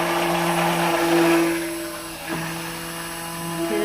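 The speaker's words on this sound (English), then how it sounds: "Then we take our emulsifier and we stir." A stick blender whirs steadily through goat milk soap batter scented with lemongrass, a loud, continuous motor drone whose pitch dips briefly midway before resuming alone.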